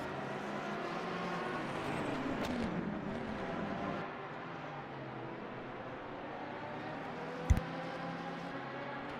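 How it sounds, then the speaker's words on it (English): Fast hypercars sweeping past in an rFactor 2 endurance race at Daytona, an engine roar rising and fading as one car passes, then a steadier hum with a brief sharp click near the end. "you got some very fast moving hypercars threading their way past you"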